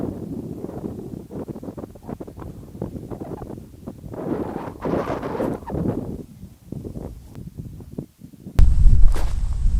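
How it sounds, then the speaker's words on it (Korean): Strong wind gusts roar across a campsite during a heavy rainstorm, buffeting a Polaris P1 Compact one-touch pop-up tent with steady rumbling turbulence that swells into a loud burst near the end. "야, 바람 미치게 부네 오늘. 와, 지금 바람 엄청 불어요."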